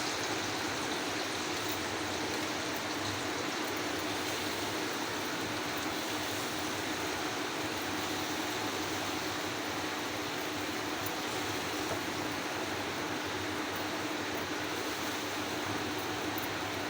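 Chicken sizzles as it browns in a pan for a Pakistani/Indian chicken phalli curry, a steady, even hiss of frying that holds throughout with no talking.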